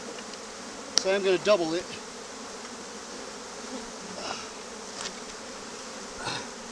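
Bees swarm around a large hive inside a shed being removed, giving a steady angry buzz with a few louder passes close to the microphone and a brief spoken remark near the start.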